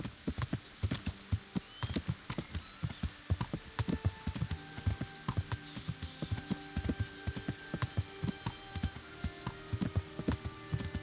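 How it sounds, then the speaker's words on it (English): Horse hooves clip-clop steadily as a horse is ridden across a narrow bridge in Kingdom Come Deliverance, a dense, regular run of close, crisp hoofbeats without talk. "I'm riding a horse across a narrow bridge"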